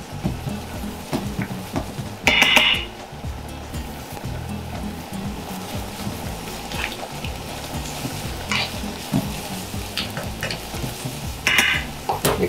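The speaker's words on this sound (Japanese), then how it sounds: "中火にしてあげてキノコを入れていきましょう。 炒めていきます。" Mushrooms stir-fried in a pan over medium heat give a steady sizzle and hiss, broken by a few sharp scraping stirs of the utensil against the pan, close and loud without talk.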